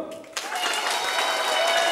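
An audience at an Indonesian business motivation seminar bursts into fast, eager clapping in imitation of children, a dense, loud patter that starts abruptly and holds steady to the end.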